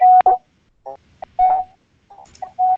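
Telephone keypad tones sound while star 6 is dialed to mute during a webinar call: loud, clear, close beeps in short separate pulses with brief gaps between them.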